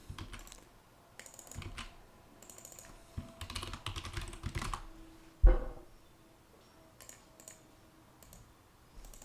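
Keys clatter on a computer keyboard during a website login, in uneven bursts of close clicks with brief pauses and one louder thump midway, with no voice.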